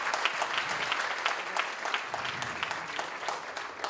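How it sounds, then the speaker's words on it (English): Dense, sustained applause from a crowd at an annual award function auction, steady and moderately loud throughout with many overlapping claps and no clear talk. "Big round of applause for Tony Bhai"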